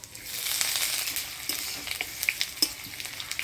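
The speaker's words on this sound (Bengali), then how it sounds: "ফোড়নে দিয়ে দিব শুকনো লঙ্কা, তেজপাতা, থেতো করা আদা আর পাঁচফোড়ন" Dry red chillies, bay leaf, crushed ginger and panch phoron sizzle in hot oil as a tempering for kalai dal. A steady, close crackling fry runs throughout, with sharper pops and stirring scrapes growing more frequent toward the end.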